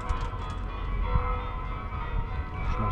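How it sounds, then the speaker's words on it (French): Church bells ringing across the town of Ischia during a September festival, a steady, resonant peal with overlapping tones sustained throughout, fairly loud and reverberant. "Et là, concert de cloches à nouveau."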